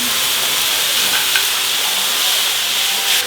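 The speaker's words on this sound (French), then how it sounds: "Maintenant, cognac et on flambe." A steak sears in a pan while cognac is flambéed over it, giving a loud, continuous hissing sizzle held close and steady throughout, with no talking.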